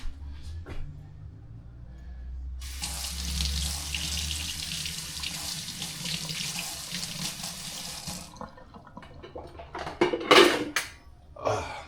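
Tap water running into a kitchen sink while a pot lid is rinsed, a steady close rush that starts and stops, followed by clattering dishes and metal utensils with no talking.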